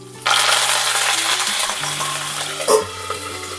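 Spices and green chilies frying in hot oil for vankaya (eggplant) curry, a loud, close, continuous sizzle that starts suddenly and flares briefly near the end.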